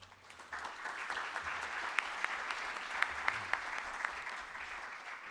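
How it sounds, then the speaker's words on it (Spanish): Audience applause at a Peruvian electoral studies congress, a steady, moderately distant wash of clapping across the hall with a few sharper individual claps standing out, no voices over it. "Le brindamos un fuerte aplauso."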